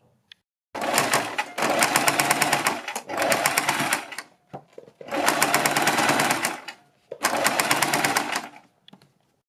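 A sewing machine stitches a neck strip onto a kurti in four loud, close bursts of rapid, even stitching separated by brief pauses.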